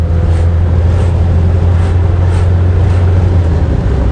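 Original engine of a 1960 Warszawa 201P classic pickup, running steadily as it drives, with a low, constant drone that holds close and loud throughout, without speech.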